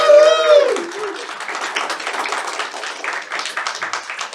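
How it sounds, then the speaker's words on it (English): A brief voice gives way to an audience clapping at a magic show, steady applause of many hands that carries on at moderate volume. "Big round of applause, everyone."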